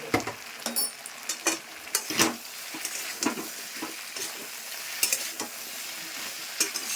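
A vegetable curry fries in a pan with a soft sizzle while a spoon stirs it in repeated scraping strokes. The stirring comes in irregular bursts, close and fairly quiet, and no one speaks.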